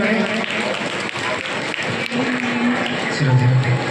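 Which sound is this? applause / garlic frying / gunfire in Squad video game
applause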